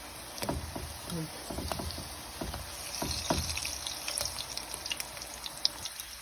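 Peeled breadfruit fries in hot oil, giving scattered crackles and pops over a low bubbling sizzle, with irregular sharp spatters throughout.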